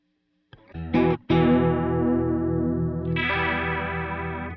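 Guitar through the chorus side of a Truetone V3 H20 Liquid Chorus, with the tone knob rolled fully off: a few plucked notes, then a ringing chord with a dark, shimmering, warbling chorus, and a higher chord entering near the end.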